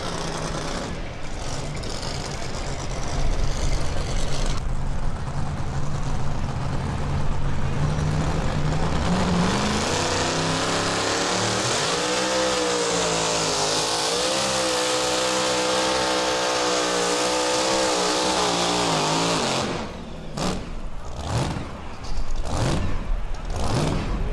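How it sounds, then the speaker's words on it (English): A big aluminum Chrysler Hemi in a pulling truck at a county fair truck pull loudly rumbles and revs, climbing into a sustained full-throttle roar for several seconds before dropping off, with brief bursts near the end. "Now you hear the lope of the big aluminum Chrysler Hemi."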